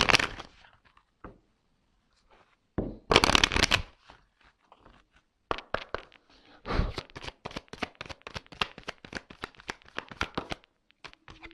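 Tarot cards are shuffled and drawn by hand, close riffling bursts and quick flicks and slaps of card stock with pauses between, in a quiet room.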